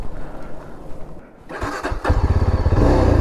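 A motorcycle engine cranks and catches, rising from a low rumble into a steady running idle close by, loud and without voices, during a bike trip to Ziro Valley.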